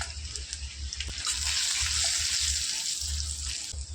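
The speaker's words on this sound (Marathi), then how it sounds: "जस्ट जिरी, मोहरी आणि लसणाची फोडणी द्यायची" Cumin, mustard seeds and crushed garlic tempering in hot oil for a Maharashtrian sandge vegetable dish in a home kitchen, a steady, close, bright sizzling hiss lasting throughout, with low intermittent rumbling thumps beneath and no talking.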